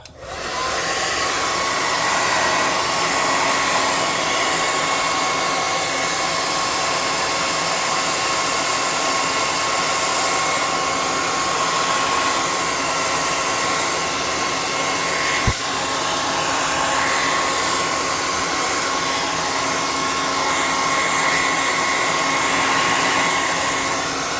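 A hair dryer blowing on a painted tabletop miniature model, a loud, constant whirring roar running steadily throughout with one brief knock partway.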